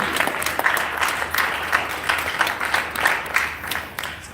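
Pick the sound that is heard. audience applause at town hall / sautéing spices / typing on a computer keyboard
audience applause at town hall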